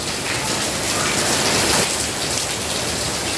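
Heavy unseasonal summer rain pours down in a dense, steady hiss of drops drumming on surfaces, loud and continuous with no voices.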